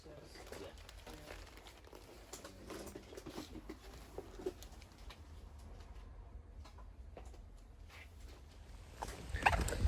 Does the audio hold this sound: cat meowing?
no